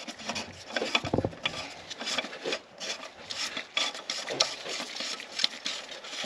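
Oil filter canister cap on a 2017 Chrysler Pacifica being turned and tightened by hand, giving close rubbing, scraping friction sounds in short irregular strokes with a brief knock near the start.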